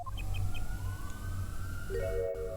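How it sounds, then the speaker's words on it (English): An ambulance siren wails in the Apollo Justice video game, a rising, sweeping electronic tone over a low hum, with chirping blips at the start and a stepped tone near the end. "There's the police coming for you. I think it's actually an ambulance, but they're coming for you."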